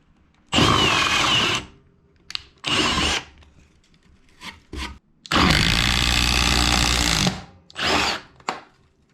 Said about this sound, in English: we'll see how it does with the drill and then the impact driver into some real wood